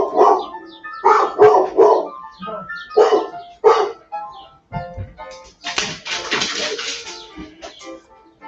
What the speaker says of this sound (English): my dog might be barking about